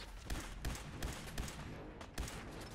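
Laser rifle firing in Fallout 4, roughly six loud, sharp shots spaced about every third of a second in a steady rhythm over a busy background, with no voices.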